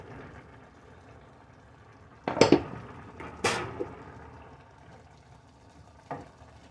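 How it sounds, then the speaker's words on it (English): Fresh corn with a spoonful of sugar is stirred in a pot on the stove: a couple of loud clanking scrapes in the middle and a lighter knock later, over a faint background. "You want to keep stirring that"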